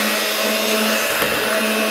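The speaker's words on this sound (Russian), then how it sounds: "Взялись за миксер наши маленькие поварята и большие тоже." An electric mixer whips homemade ice cream, a loud, close, continuous motor whir with a steady buzzing hum that holds level throughout.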